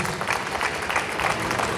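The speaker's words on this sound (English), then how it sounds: "can we have a huge round of applause for Mr. Sabu Cyril, please?" Short burst of dense audience applause at a film panel at the 2014 Mumbai Film and Comic Con, a continuous wash of many hands clapping at moderate volume with no talk.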